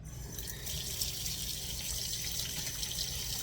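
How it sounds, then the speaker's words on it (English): Water runs steadily from a tap into a measuring cup for feeding cultures, a constant close splashing stream with no pauses and no talking. "I'm gonna add 3 ounces of water"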